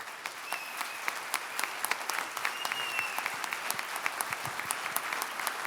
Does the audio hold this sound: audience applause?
yes